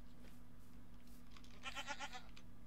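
A goat in the Minecraft video game bleats once, a short wavering cry standing clearly above a steady low game hum.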